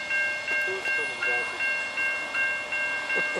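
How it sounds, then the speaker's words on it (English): A local switcher locomotive rolls on rails with rhythmic clunks from wheels crossing rail joints roughly twice a second, accompanied by steady high squealing tones, fairly close. "Oh, what is that, a switcher?"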